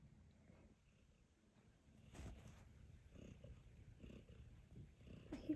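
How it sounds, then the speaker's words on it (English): A house cat purring close by, a soft low rumbling texture that swells slightly louder in the second half, with faint background noise around it. "Are you purring?"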